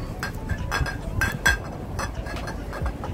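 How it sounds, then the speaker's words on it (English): Glass prosecco bottles clinking together inside a shopping bag, a run of small bright chinks repeating irregularly close by over a muffled background of movement. "Clinking away in my bag."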